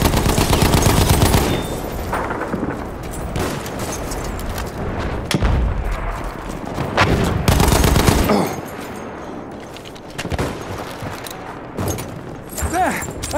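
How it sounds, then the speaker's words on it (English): An enemy machine gun fires in Battlefield 1 on the Amiens map, loud bursts of rapid shots with booming hits, while players shout over the battle noise. "Enemy machine gun!"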